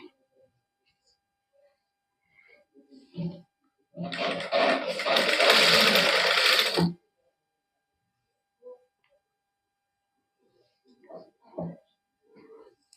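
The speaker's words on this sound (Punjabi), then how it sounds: "ਇਸ ਤਰ੍ਹਾਂ ਦੇ ਨਾਲ ਨਾਲ ਸਲਾਈ ਲਾਈ ਜਾਵਾਂਗੇ ਜਿਵੇਂ ਆਪਾਂ ਆਮ ਲਾਉਣੇ ਹੁੰਦੇ ਆ" A sewing machine stitches along the neckline of a cotton suit, one steady burst of about three seconds in a quiet room, with brief handling sounds and a voice speaking before and after.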